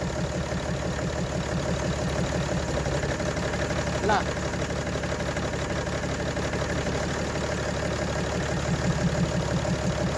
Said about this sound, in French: Vous entendez le bruit du moteur comment changer.